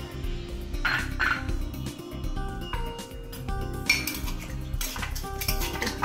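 Crushed ice is stirred in a glass for a mango mojito, making busy clinking and rattling of a spoon against ice and glass, close up and continuous, with no speech.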